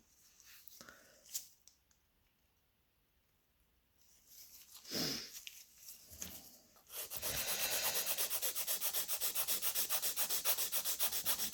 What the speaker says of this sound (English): filing until you're happy with your ombre